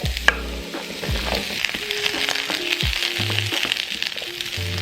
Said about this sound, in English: It's so strange to be frying something sweet